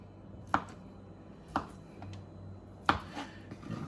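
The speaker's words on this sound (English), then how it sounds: "Then we chop again." A knife chops tofu for a teriyaki peanut stir fry on a cutting board, giving three sharp, close strikes spaced about a second apart over quiet kitchen background.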